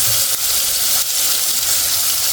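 Neem leaves and garlic chutney sizzle steadily in hot oil with hing and turmeric, a loud, continuous close-up crackle and hiss with no voices.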